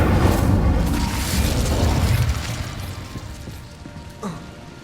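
An incendiary fire spell bursts in Hogwarts Legacy with a loud, deep rumbling blast that slowly fades over several seconds, then a smaller pop near the end.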